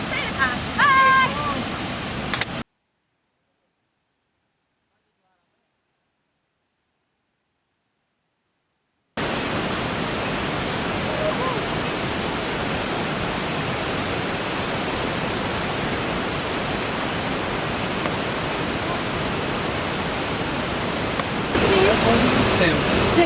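Sekumpul waterfall in Bali roars as a steady, loud wash of falling water, broken by a stretch of silence, with brief talk at the start.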